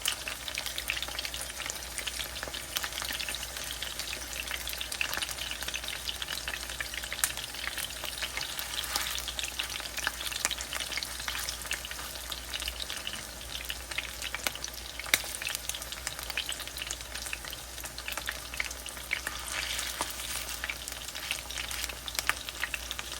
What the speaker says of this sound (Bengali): সেগুলিকে আমি এরকম এই বড়ার মতো করে এটাকে ভাজবো।